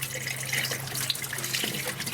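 Water runs and splashes inside a rain harvester tank being cleaned out after a fire, a steady close rush with small splashes and drips.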